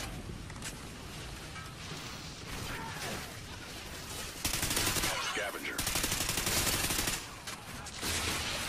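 Call of Duty Ghosts gunfire in a Blitz match, with dense, rapid automatic bursts and shots firing almost continuously, loud and close, with a louder sustained burst midway.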